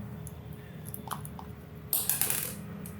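Tiny screws being backed out of a 2021-2024 Kia Sportage key fob with a small screwdriver: light metallic ticks and ratchet-like clicks, close up, with a sharper burst of scraping clicks near the end.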